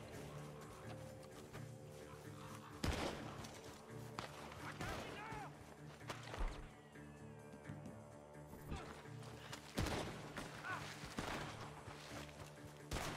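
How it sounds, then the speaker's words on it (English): Gunfire in the video game Red Dead Redemption 2, with several sharp shots and crashes scattered among game music and effects, while a player talks over parts of it. "Gunshots are coming."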